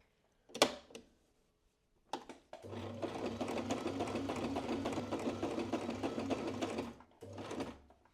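A domestic sewing machine runs a steady whirring stretch of stitching through fabric for a scalloped heart garland, framed by a few short clicks and bursts of the needle mechanism before and after.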